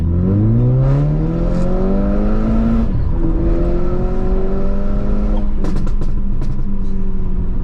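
A stage 1 remapped VW Polo GTI with roughly 250 bhp revs up in rising tonal sweeps. Its exhaust then crackles and pops in a brief flurry of sharp bursts, close and loud.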